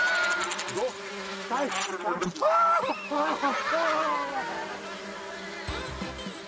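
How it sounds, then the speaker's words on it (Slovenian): Angry bees swarming around a beehive, a dense wavering buzz that rises and falls steadily and close, with other tones mixed in, and voices faintly under it. "Roj čebel se zapoti za menoj"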